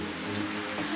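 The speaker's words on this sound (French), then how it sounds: "Et voilà, la pluie maintenant." Rain falling outdoors, a soft continuous patter on surfaces, steady and fairly faint, with no talk over it.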